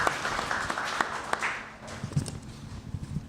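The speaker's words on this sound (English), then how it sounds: "Please give them a round of applause." A round of applause from the audience at a community forum with a panel of speakers; brisk, dense clapping runs throughout, fairly loud and close, with no talk over it.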